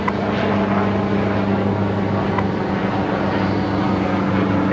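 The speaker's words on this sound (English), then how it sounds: "next departure is going to be the Qantas 73 operating to Sydney today" A Qantas airliner departing Brisbane Airport, its engines making a steady, loud broadband roar with a low hum that holds constant and unbroken from start to end, with no voices.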